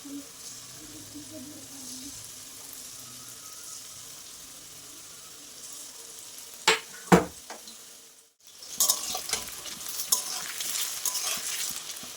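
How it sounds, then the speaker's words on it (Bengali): Chicken pieces fry in a pan with a steady low sizzle, then two sharp clatters of stirring. A brief drop to near silence follows before a louder, busier sizzle returns. "আমি মাংসের পিসগুলো সব এইভাবে দিয়ে ভেজে নেব।"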